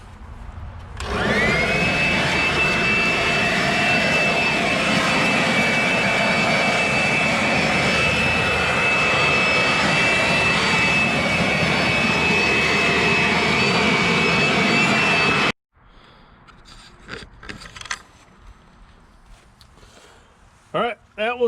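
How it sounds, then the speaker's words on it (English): A cheap weed eater power blower (model 2510) roaring at a steady high-pitched whine for about fifteen seconds before cutting off abruptly, followed by a voice speaking. "Introducing the world's cheapest and most ridiculous weed eater power blower 2510 in all the world"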